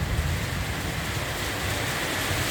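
Heavy rain with big drops falls at a home in the countryside, a dense, steady roar of rain that is loud and unbroken and heard alone without speech.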